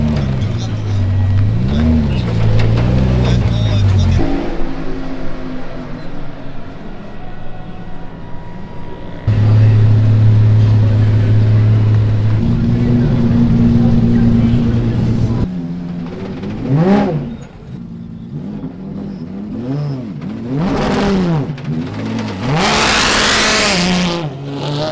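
Powerful rear-wheel-drive four-speed race car at the Charade circuit, loud engine revving and dropping through gear changes with sharp bursts of acceleration, heard from on board with people talking over it.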